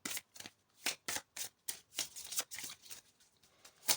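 Close by, a deck of tarot cards is shuffled and drawn in a run of quick, crisp riffles and flicks, about a dozen short bursts with small pauses between them. The sound is quiet and there is no talking.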